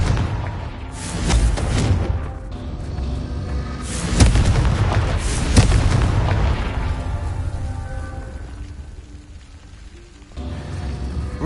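Confringo blasting spells in a Harry Potter video game set off a series of heavy, deep explosions that boom and rumble close by, with bursts overlapping into a continuous roar before a brief quieter gap.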